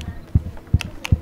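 A heartbeat sound effect from the Roblox game Frogge thumps in a steady, fast double-beat rhythm, three low pulses in quick succession, close and prominent.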